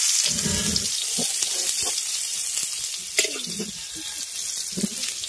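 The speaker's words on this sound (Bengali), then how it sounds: "ভালো করে লঙ্কাটাকে ভাজতে হবে, এটা কিন্তু জরুরি। এবার পেঁয়াজটাও দিয়ে দিচ্ছি।" Green chilli and onion frying in a pan for a Bengali home-cooked breakfast, a close, steady hiss and sizzle with occasional stirring scrapes throughout.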